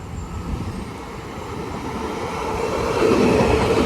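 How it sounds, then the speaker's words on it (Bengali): A train rumbles into Lynbrook station, New York, with a steady low roar and rhythmic wheel clatter, growing louder toward the end, heard up close without talk. "এই যে ট্রেন ঢুকছে"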